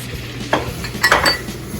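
A spoon scrapes and swirls through a flour, butter and nutmeg roux in a pan, two or three short stirring scuffs over a faint steady sizzle.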